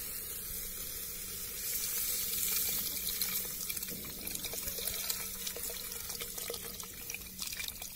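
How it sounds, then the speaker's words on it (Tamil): Tamarind water pours and splashes steadily into a pot of village herbal rasam for several seconds, a soft continuous trickle with a few bubbling crackles, fairly quiet. "நம்ம புளி தண்ணி சேர்த்துக்கலாங்க"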